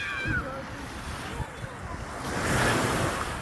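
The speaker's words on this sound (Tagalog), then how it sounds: "Ganda ng dagat namin dito. Black sand yan" Sea waves wash onto a black sand beach at a resort in Maitum, Sarangani Province, a steady hiss of surf with wind buffeting the microphone, swelling louder near the end, while a voice talks over it.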